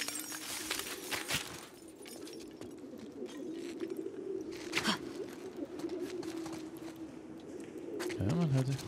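Pigeons coo softly in the distance in The Last of Us 2, set in an enemy area, with scattered clicks and light rustling around the soft calls.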